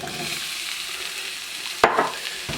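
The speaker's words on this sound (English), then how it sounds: "Throw a piece of an onion on here. Just when that starts sizzling, I'll throw the rest of them in." A piece of onion sizzles in hot oil in a pan, giving a steady soft crackle with a sharper burst of hiss and clatter partway through and no talking.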